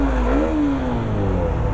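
A Hero Xtreme 125 motorcycle engine revs up close, a steady loud drone whose pitch rises briefly and then settles back to idle, with no voices.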